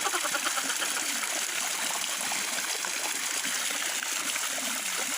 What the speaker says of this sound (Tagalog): Ito yung maliit na falls namin.